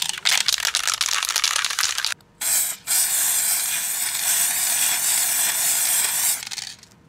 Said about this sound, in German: hier den Aktivator drauf sprühen.